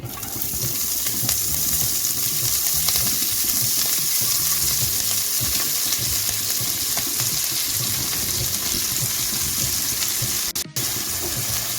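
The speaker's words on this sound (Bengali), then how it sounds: "এখন আমি ফুলটাকে ভেজে নেব" Drumstick flowers sizzle and crackle steadily in hot oil over low-to-medium heat, a continuous close frying hiss with a brief dip near the end.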